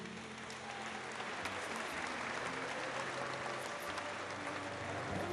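Steady audience applause fills a tribute ceremony for a Congolese singer in Abidjan, a dense, even wash of clapping that holds at full strength from start to finish with no voices over it.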